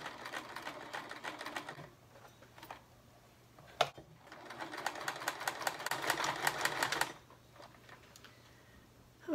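A sewing machine stitches fabric tree cutouts onto a denim pillow cover in two close, steady bursts of rapid mechanical whirring, separated by a quiet pause with a single sharp clack.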